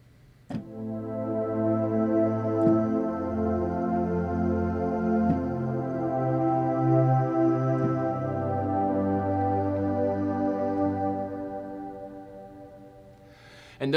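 Two worship keyboard synth pads layered together, one airy and pitched high, swelling into a full, sustained chord bed. Soft chord changes drift by for several seconds before the sound fades, with no talking.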